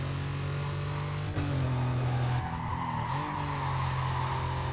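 A race car skids through a corner in Need for Speed Carbono, its steady engine drone joined by a brief tire squeal midway before the engine tone settles again, loud and close with no talking.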